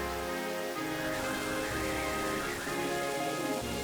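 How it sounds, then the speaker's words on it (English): Steady wind and rain hiss from the Pokémon Black video game, a constant broadband wash holding at an even level, with a game melody and sustained tones layered over it. "Catch cold standing around talking in this wind and rain."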